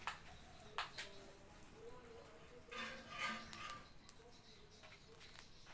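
Faint clinks of dishes and cutlery from someone eating in the background, scattered light taps and scrapes over a quiet room, with birds cooing softly and no clear talking.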